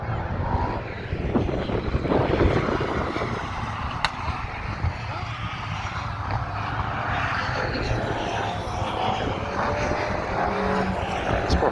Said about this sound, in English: Sound of that Viper,